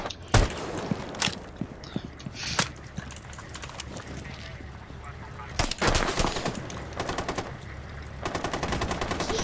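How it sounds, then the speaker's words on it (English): Gunfire in a ranked online shooter match: scattered single shots and short rapid bursts, some near and sharp, others further off, with game effects and faint voices in the background. "Stop shooting my friend!"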